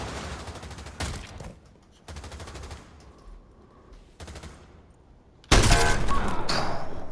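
Heavy .50 caliber sniper rifle fire in the Pavlov VR shooter game: a few loud, booming single shots with broadband blasts and ringing tails, separated by quieter gaps, ending in a sustained loud burst of noise.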